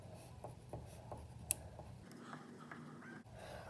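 Crayons scratching dashed strokes across paper, a series of short, soft rubbing marks in a loose rhythm, close and quiet with no talk.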